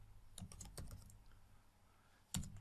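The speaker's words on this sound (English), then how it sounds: "Hit the enter key." A computer keyboard is tapped in a quick burst of soft keystrokes, then after a pause a single louder key press lands near the end, close-miked and quiet with no voices.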